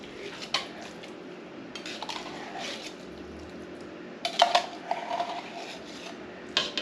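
A tiny spatula scrapes and stirs canned pumpkin in a bowl, giving soft irregular clinks and scrapes at close range with a few louder clatters near the end.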